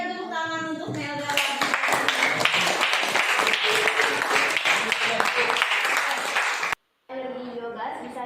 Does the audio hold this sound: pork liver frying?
no